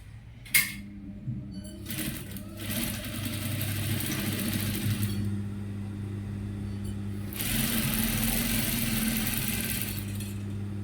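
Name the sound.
sewing machine stitching shoulder seam of Ankara fabric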